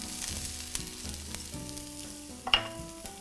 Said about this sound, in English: So we're going to stir this for about 5 minutes.